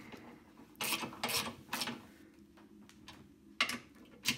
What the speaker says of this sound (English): now I simply just tighten these four nuts back up